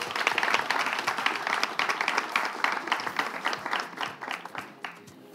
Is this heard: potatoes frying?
no